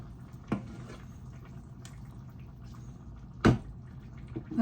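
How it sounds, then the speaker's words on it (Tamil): Quiet, steady bubbling of a curry simmering in a pot, with a couple of sharper pops or drips standing out. "குழம்பு கொதிக்கட்டும்"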